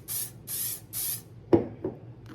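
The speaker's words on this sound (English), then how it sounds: "And then I'm going to go ahead and spray my little tassel here as well." Carbon Pro protector spray misted onto a bag tassel in three short, even hissing bursts, followed by a couple of soft thuds and handling knocks nearby.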